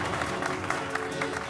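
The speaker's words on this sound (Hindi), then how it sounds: "जोरदार तालियां बजाएं।" A stage audience breaks into a short, brisk burst of applause for a magician's assistant, a dense patter of clapping with some crowd murmur mixed in.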